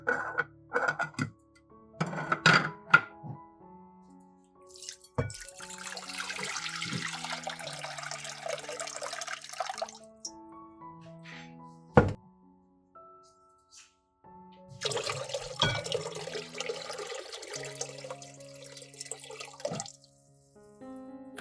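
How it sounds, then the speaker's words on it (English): Water poured from a jar into a cooking pot, a steady splashing pour in two long stretches with brief knocks and clinks between them, close and fairly loud. "pour the water in the jar into a pot."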